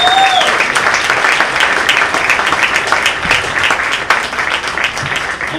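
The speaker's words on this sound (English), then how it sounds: "give them a huge round of applause" A crowd at a high school regional championship baseball game, Gillette Roughriders versus Cheyenne, applauds the players with loud, thick clapping that holds steady and then eases slightly toward the end, with a brief whistle near the start.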